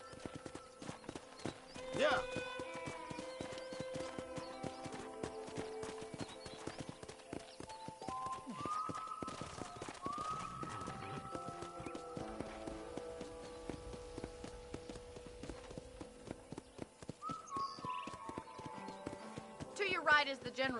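Horse hooves clip-clop steadily at a walking pace in the Red Dead Redemption game, mixed under a background music score with a brief spoken word.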